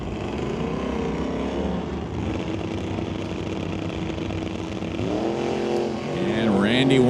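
Drag race cars, including a 58 Oldsmobile, rumble and rev at a drag strip, engines droning loudly and rising toward the end as one launches, with a commentator talking over them.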